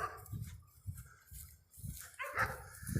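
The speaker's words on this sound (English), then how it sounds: "He sees all the dogs out there barking at him" Several dogs barking outdoors during a walk, a faint, irregular run of barks and yips at some distance.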